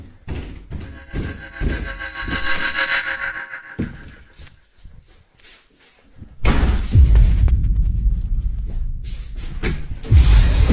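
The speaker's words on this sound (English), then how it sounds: "Cały czas mi coś nawala w drzwi." Heavy banging on a door comes in bursts of loud thuds and slams, a cluttered stretch of knocks giving way to a quiet pause before a louder, sustained rumbling pounding returns.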